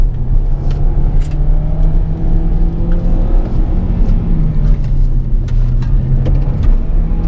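A 2018 Hyundai Kona's four-cylinder engine revs during downshifts in sport mode, a steady loud droning rumble heard from inside the cabin with gently rising and falling pitch and no talking.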